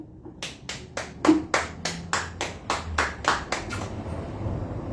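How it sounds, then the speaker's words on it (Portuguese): Church congregation clapping in a regular rhythm, about a dozen sharp claps in a row, fairly faint and slightly distant, then fading into room noise. "Aplauda o Senhor."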